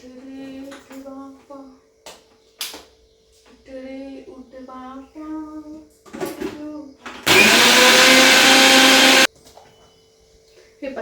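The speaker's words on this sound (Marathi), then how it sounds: "आता हे जे मिश्रण आहे ना हे सगळं मी आता मिक्सरमध्ये छान बारीक वाटून घेते" A mixer grinder whirs loudly for about two seconds, grinding a paste of chilli, ginger and garlic, after a stretch of someone talking in a home kitchen.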